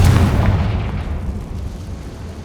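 A Confringo spell explodes in Hogwarts Legacy on PS5, a single loud booming blast up close that decays into a rumbling tail.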